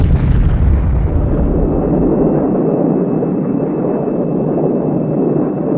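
A large bomb blast from an A-10 Thunderbolt II strike: one loud, close boom that bursts out and then settles into a long, rumbling roar that fades slowly.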